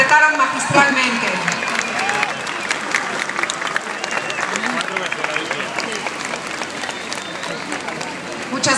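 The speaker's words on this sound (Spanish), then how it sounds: "Un aplauso para ellos, por favor" Audience at an Independence Day celebration applauding an orchestra after its performance, a broad wash of crowd applause with scattered cheers and voices, sustained and fairly loud.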